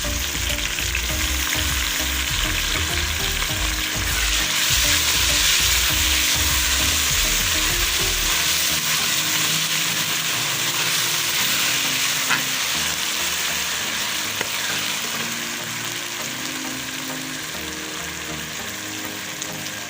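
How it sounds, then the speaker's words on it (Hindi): Garlic ginger paste hits a pan of golden fried onions, giving a loud, steady close sizzle and crackle with stirring scrapes throughout and no talking. "प्याज हमारा गोल्डन हो गया, अब मैं लहसुन अदरक का पेस्ट डाल दूँगा।"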